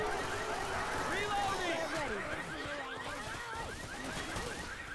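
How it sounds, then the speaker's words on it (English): A car alarm set off inside a video game match, its warbling, sweeping wail sounding moderately loud under overlapping game noise while a commentator talks. "Oh, they trigger the car alarm."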